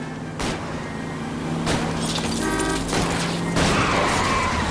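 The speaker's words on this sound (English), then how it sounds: "I'll try to shoot out his tires" Several sharp gunshot bursts in the L.A. Noire video game, fired at a fleeing car's tires, breaking over a steadily rising engine roar during a chase.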